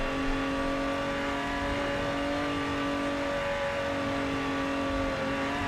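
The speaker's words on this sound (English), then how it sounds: "The transmission sounds quite nice." Racing car engine and transmission revving steadily from inside the car, a loud sustained drone with constant whining tones and no pauses.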